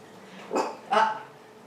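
A dog gives two short barks close by, a brief pause between them, over a quiet room background.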